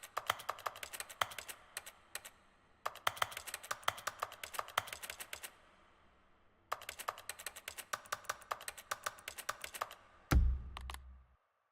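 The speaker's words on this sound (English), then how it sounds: "The clicking sound happens here" Rapid bursts of clicking come from an office in The Stanley Parable game, arriving in three quick clusters separated by brief pauses, fairly quiet and alone, ending in a short low thump.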